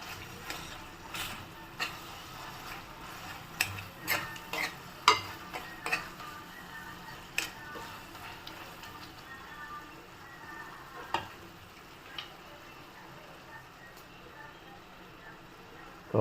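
Tomato curry being mashed and stirred in a pan, with a steady soft sizzle under irregular scraping and tapping strokes of a spoon against the pan, several sharper knocks scattered through.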